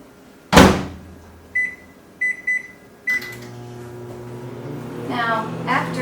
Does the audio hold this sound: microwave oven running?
yes